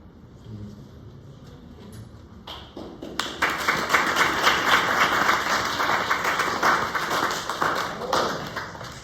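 Applause in a classroom during a therapeutics lesson for medical students, a swell of many hands clapping that builds and continues steadily, with murmuring voices underneath.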